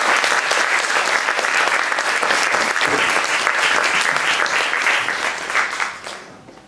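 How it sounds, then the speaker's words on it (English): An audience at a community event breaks into sustained, loud applause with dense clapping that holds steady and then fades out at the end. "another applause for David."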